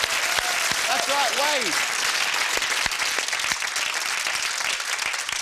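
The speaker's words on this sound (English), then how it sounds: "Give them a big round of applause." Studio audience applause in a UK television game show, a steady dense clapping wash that fills the whole stretch while a presenter talks over it with a brief rising vocal flourish near the start.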